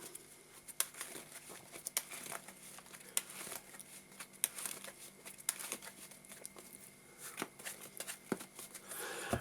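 A Yu-Gi-Oh! card deck being shuffled by hand close up, a steady run of soft, crisp clicks and riffles with quieter papery rustling between them, continuing without talk.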